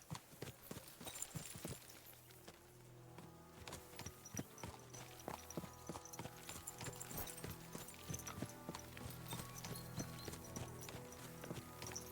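Horse hooves clip-clopping during riding in Kingdom Come: Deliverance II, a quick, steady run of hoofbeats with faint game music tones underneath, fairly soft and continuing throughout.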